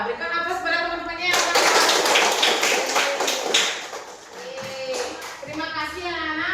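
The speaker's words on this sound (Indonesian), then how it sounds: "berikan aplaus pada teman-temannya" Schoolchildren in a classroom break into a burst of clapping for their classmates that lasts a few seconds. A voice speaks before the applause and again as it fades.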